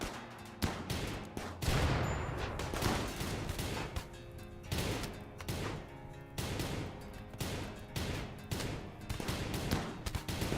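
Rapid bursts of gunfire from a Starfield firefight during a gun breach, dense overlapping shots and volleys rattling on continuously for about ten seconds with no voices.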